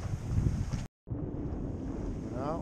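Wind buffets a sailboat at sea, a loud, gusty rush of microphone wind and water noise that cuts out briefly, then resumes steadily.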